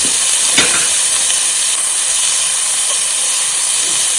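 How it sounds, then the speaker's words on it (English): Tomatoes, onions and dried chili pepper sizzle in a hot pan for a bottle gourd masala curry, a steady loud hiss lasting throughout with no one talking. "In goes the tomatoes, onions, tomatoes, the dried chili pepper"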